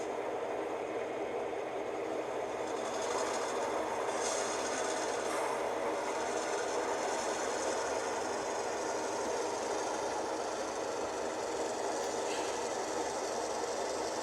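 Two BN switcher engines on a model railroad rumble and whir continuously in the yard, a steady mechanical hum with faint clicking that holds evenly throughout at moderate volume.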